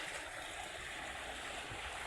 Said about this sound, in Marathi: इड मिस्टर भरू राहिले मक्काला पाणी